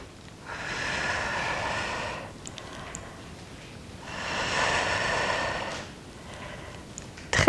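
Two slow, deep breaths taken during a gentle exercise session, each a long airy inhale-exhale lasting a couple of seconds, close and soft with quiet pauses between.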